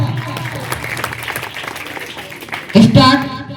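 An audience at a block-level school debate competition breaks into a short burst of clapping near the end, loud and close, following a stretch of speech.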